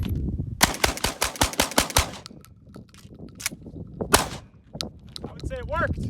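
A Sulun Arms Tac-12 shotgun fires about eight rapid, sharp, close shots in quick succession, followed by scattered metallic clatter and handling noise.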